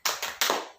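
A group clapping the rhythmic Indonesian spirit clap, three sharp close bursts of hand claps in quick succession, with no talk.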